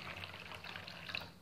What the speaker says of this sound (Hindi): इस तरह से आपको पानी को डालना है